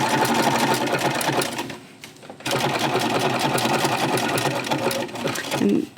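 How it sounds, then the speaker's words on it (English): Sewing machine runs steadily while stitching a Halloween quilt block, a loud continuous whir that halts briefly for a pivot at the needle, then resumes at full speed. "turn it on, because now I need to lift this foot up, and the needle down will help me pivot around the needle"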